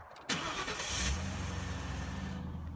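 A car engine cranks and catches with a sharp burst, revs briefly, then settles into a steady, rumbling idle, heard up close with no talking over it.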